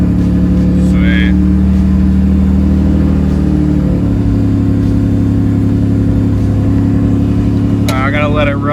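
Mitsubishi 3000GT drift car idling steadily in a driveway, a continuous close engine drone with a slight shift in pitch partway through and brief chirps near the end.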